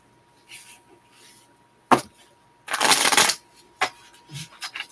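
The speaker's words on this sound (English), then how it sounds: "2 more shuffles." Intermittent oracle card shuffling up close: a sharp snap, a longer riffling burst in the middle, and a few quick flicks, with quiet gaps between.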